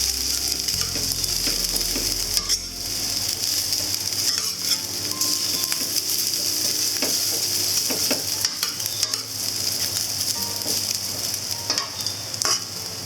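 A spatula breaks up clumps of rice for whitebait egg fried rice in a hot pan, with a continuous sizzle and scraping stir strokes throughout and no talking.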